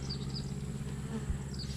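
Honey bees hum steadily at an open hive, a continuous low buzzing drone close by with occasional individual bees whining past, no voices heard.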